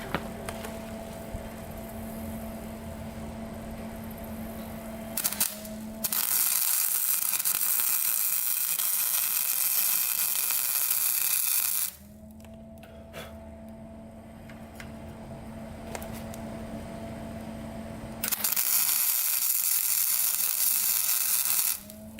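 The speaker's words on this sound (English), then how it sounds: "the Kickstarter keeps on slipping. We're gonna weld it up." Arc welding on the slipping kickstarter of a 1977 Honda Z50: loud, steady crackling hiss in three long bursts, each several seconds, separated by a quieter electrical hum, close up with no talk.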